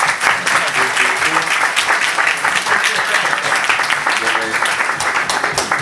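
A crowd at a music networking event claps loudly and continuously, with cheers and voices mixed into the steady applause throughout.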